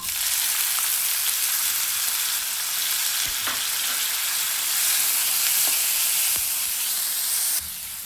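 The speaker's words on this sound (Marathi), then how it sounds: "कांदा परतताना त्यात थोडंसं मीठ घालायचं" Chopped onion sautés with cumin seeds in a hot pan for a cluster bean curry, giving a loud, steady sizzle throughout with a few faint stirring clicks and no talk.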